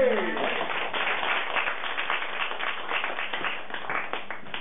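A room full of people clapping steadily, dense crowded applause that carries on without a break and stays at an even level throughout.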